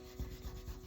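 Pencil shading rubbed on paper beneath the chin of a portrait drawing, a soft close scuffing in three quick back-and-forth strokes, faint and alone.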